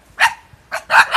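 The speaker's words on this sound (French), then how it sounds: "c'est un élevage de chiens" Dogs at a breeding kennel bark loudly and close by, giving three sharp woofs: one single bark, a pause, then two quick barks in a row, with no voices.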